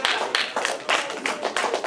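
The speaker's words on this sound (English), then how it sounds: "Everybody give yourselves a round of applause." A congregation at a live-streamed worship service claps together in a round of applause, with bursts of hand claps rising and falling in uneven waves, fairly close and loud.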